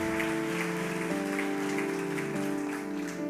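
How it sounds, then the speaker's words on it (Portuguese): A church congregation applauding, a dense, steady patter of clapping that sounds much like rain, underneath sustained organ or keyboard tones, with no talking. "Aplauda Jesus pela vida dela."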